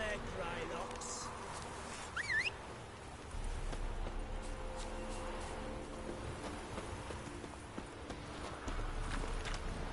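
Roach the horse's hooves clip-clopping at a walk in The Witcher 3, a soft steady rhythm under ambient rain-like noise, with people talking over it.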